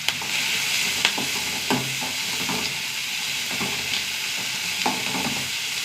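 Sliced onion sautéing in a pan with green chillies and curry leaves, a steady close sizzle and hiss broken by occasional stirring scrapes and clinks, with no voices.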